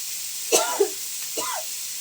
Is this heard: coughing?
yes